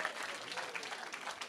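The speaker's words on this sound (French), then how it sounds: "Applaudissez un peu plus." A church congregation at a praise service applauds continuously, a dense, steady wash of many hands clapping at moderate distance with no clear breaks.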